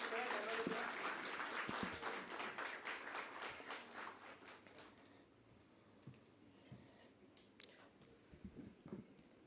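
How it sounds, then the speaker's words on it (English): Applause from a crowd at a stock exchange listing ceremony, dense clapping that is loud at first and thins out over several seconds into scattered claps and faint murmuring. "Can we have a round of applause"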